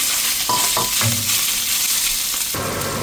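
Beef and pork stir-fried together with pansit canton noodles in a hot pan, sizzling and hissing steadily with a few scraping, clattering stirs, close and loud throughout.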